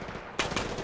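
Gunfire in Far Cry 4 breaks out suddenly after a quiet moment: a rapid, loud burst of automatic shots close by that keeps going to the end.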